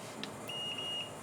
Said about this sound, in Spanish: tiene un buzzer, va a generar un pitido cuando tengas continuidad